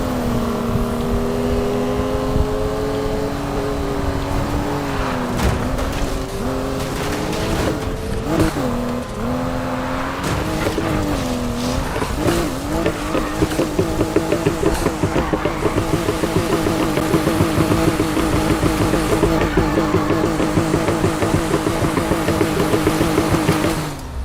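Engine roars steadily through a long drift in the racing game Need For Speed Shift, the revving pitch rising and falling with tire-sliding whine, loud and continuous with no talk.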